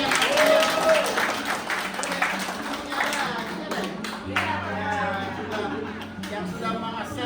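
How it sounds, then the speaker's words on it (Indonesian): A crowd at a large family reunion claps together, a dense and fairly loud patter of many hands that slowly thins out, with people talking over it. "Kita aplaus dong buat Mbak Bisanya"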